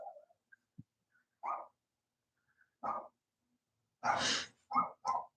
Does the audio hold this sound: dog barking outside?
yes